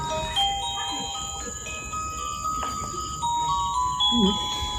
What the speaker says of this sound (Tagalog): Tumunog yung sensor namin guys doon.